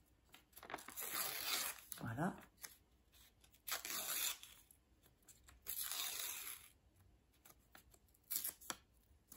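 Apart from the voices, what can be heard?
tearing a small piece of paper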